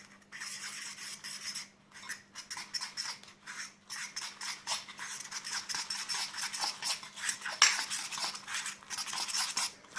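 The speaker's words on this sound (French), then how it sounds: "on mélange bien." A utensil scrapes and stirs cake batter in a bowl with a continuous, fairly quiet rhythmic rubbing, close to the microphone.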